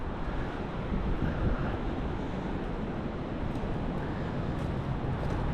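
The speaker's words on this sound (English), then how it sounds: "Now we're seeing winds like wind gusts stronger." Strong wind roars in gusts during a windstorm in the Ohio Valley, a constant heavy rumbling rush that buffets the microphone with no voices.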